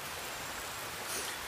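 Rain falling outdoors as a steady, dense hiss of drops with no breaks, fairly loud and even throughout, with no voices.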